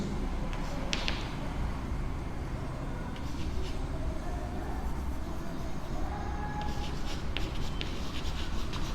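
Scratchy strokes of writing on a board during a maths lesson come in short bursts, fairly faint over a steady background hiss.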